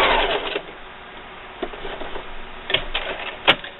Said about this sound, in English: I'm just going to sew right off the project